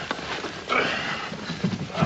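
Horses in an outdoor Western scene give a faint neigh while hooves clop and shuffle irregularly in a noisy, rough mix, with short thuds and bursts at moderate distance.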